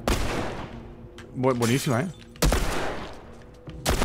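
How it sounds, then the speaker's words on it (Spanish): Gunfire from The Last of Us Remastered, with several loud sharp shots in quick succession, broken up by a player speaking between the bursts. "¡Disparo de advertencia!"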